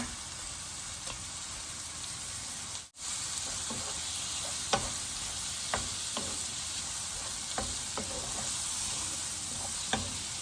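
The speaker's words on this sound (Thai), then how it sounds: "หอยเชลล์ลงผัดเลยนะคะ" Scallops stir-frying in a pan for scallop carbonara spaghetti, giving a continuous loud close sizzle with intermittent sharp clicks and scrapes from stirring and one brief dropout.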